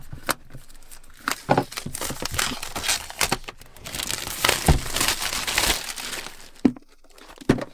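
Packaging for a Lenovo Idea Tab Plus 12.1 Matte Edition tablet is opened, with close, busy crinkling, tearing and cardboard crackles coming in quick irregular bursts throughout.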